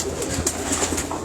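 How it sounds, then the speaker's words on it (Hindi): Domestic pigeons kept by a bird fancier in Lala Musa, Pakistan, coo softly in short, repeated throaty calls close by, with no voices. "ये कौन से कबूतर है? यहीं के पाकिस्तान से लिए हुए कबूतर?"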